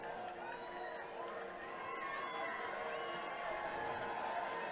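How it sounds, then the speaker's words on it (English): Lebanon football crowd cheering across the stadium at a high school game, a steady distant roar of voices sustained throughout. "And you can hear the Lebanon crowd across the way cheering that."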